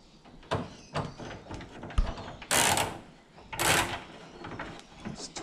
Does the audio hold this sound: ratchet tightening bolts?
yes